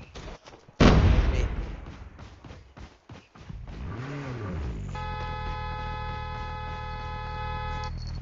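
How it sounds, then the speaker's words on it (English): Gunfire in an online shooter video game: a sharp blast followed by scattered shots and rumbling booms, then a steady electronic hum and a tonal drone. "We have gunfire."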